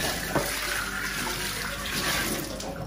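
Tap water runs steadily into a sink in a kitchen while rinsing, a continuous close splashing hiss with no talk.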